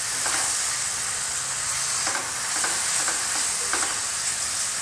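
Chicken sausage masala frying in a pan gives a steady, loud sizzle with faint scraping stirs repeating every second or so.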